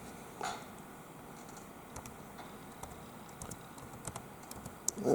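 Quiet, close tapping on a computer keyboard, with a scattered run of light clicks and ticks over faint room noise and one sharper click near the end.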